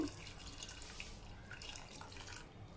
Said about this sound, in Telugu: ఇందులో కాస్త చల్ల నీళ్ళు పోసుకోండి